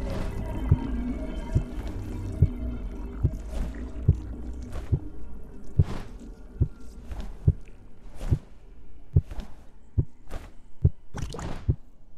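Heartbeat effect in a dwarf-themed video game, a steady series of soft low thumps at an even pulse about once per second, repeating over a faint ambient background with no talk.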